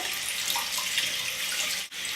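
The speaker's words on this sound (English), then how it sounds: "then we're just going to run this under the water." Tap water runs in a steady hiss over a makeup brush held under the stream, close and unbroken except for a brief dip near the end, with no talking.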